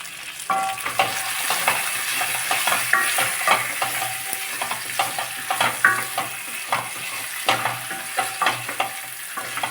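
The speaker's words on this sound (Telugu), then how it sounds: "బాగా వేగుతున్నాయి" Chicken leg pieces fry in a pan with a bright, crackling sizzle and repeated scraping stirs and spatula knocks, close and steady throughout, without any talking.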